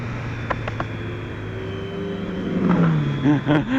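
A Triumph Street Triple 675R motorcycle engine revving up and down, rising in pitch and growling louder toward the end, with steady road noise underneath; no talking.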